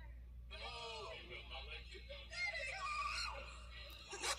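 A boy screams loudly and sustained in a noisy group setting among band members, the shrill cry rising and wavering over a steady background hum and crowd noise.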